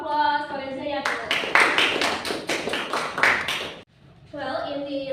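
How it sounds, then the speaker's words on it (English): Classroom applause for a student presenter, a burst of many hands clapping for about three seconds, with a speaking voice just before and after it. "Okay, give applause for Zayatul."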